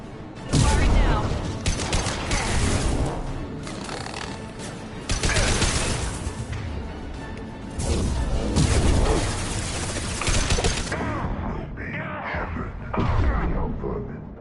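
Rapid bursts of weapon fire crackle through a Mass Effect 2 Legendary Edition firefight, loud and dense in repeated volleys with brief pauses, layered with combat voices and clanking mechanical effects.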